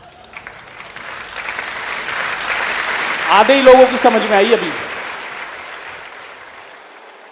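An audience at a poetry recitation claps loudly for a poem about Modi, applause swelling in the middle and fading out, with someone speaking over it and a brief sung phrase.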